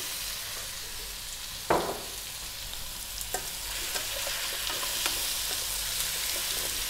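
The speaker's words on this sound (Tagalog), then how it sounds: "haluin ko lang siya ng mga ilang segundo bago natin ilagay yung ating kalabasa" Crab simmering in coconut milk is stirred in a pan, a continuous sizzle with a sharp scrape of the utensil early on and soft clinks and stirring scrapes after, no speech.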